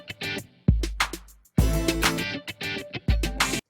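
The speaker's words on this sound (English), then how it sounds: "We've been listening at 100 beats per minute" Looped music playing at 100 beats per minute, a steady rhythmic groove of drums and instruments with strong punchy hits recurring about every second and a half, loud and alone without talk.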